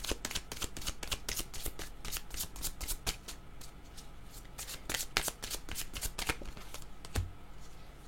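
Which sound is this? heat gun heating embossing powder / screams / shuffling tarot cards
shuffling tarot cards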